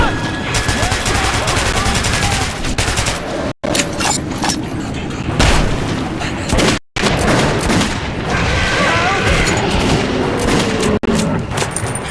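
Dense gunfire from the video game Metro 2033 Redux, with rapid automatic bursts and booming shots piling up almost without pause, broken by two brief cuts to silence and mixed with shouts.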